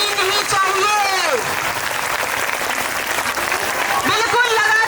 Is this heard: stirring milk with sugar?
no